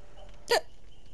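A single short, sharp sneeze, clear and close, standing alone against quiet background hiss.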